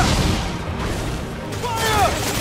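Ship cannons fire in a naval battle in Assassin's Creed IV: Black Flag, with heavy booms and rumbling blasts piling into a dense, loud barrage while a voice shouts over them.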